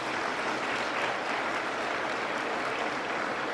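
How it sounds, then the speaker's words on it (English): Audience applause for sponsors at an annual student design competition banquet, a steady, even wash of many people clapping, fairly faint and continuous throughout. "Let's give them a round of applause."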